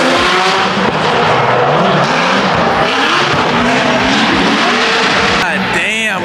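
Formula Drift cars, including a 1000HP BMW, skid past at high speed with loud, continuous tire squeal and roaring engines, ending on a rising whine as one sweeps close.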